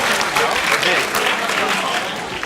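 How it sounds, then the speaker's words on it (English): Audience applause for a gentleman at an Adobe school event, a dense burst of clapping from a crowd filling the short moment. "A round of applause for that gentleman there"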